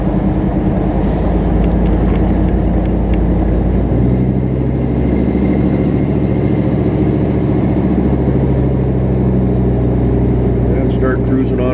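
A car engine works at higher RPM while cruising on a highway, giving a loud, steady drone inside the cabin that deepens partway through, with talk heard over it.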